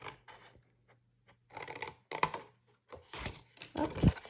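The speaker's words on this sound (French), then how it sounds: "Vous venez couper sur votre trait et sur la pliure." Scissors cutting paper along a drawn line and a fold while covering a herbarium album, a few short snipping and rasping bursts separated by quiet gaps, close and soft.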